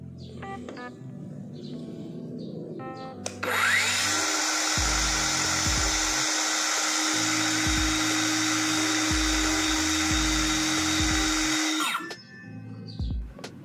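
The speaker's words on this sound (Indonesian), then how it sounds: "Langsung saja kita pasang untuk melihat RPM yang ada pada Circular Saw ini." A cordless brushless circular saw spins up sharply and runs at a steady, loud high-pitched whine for about eight seconds before cutting off, with quieter background sounds before and after.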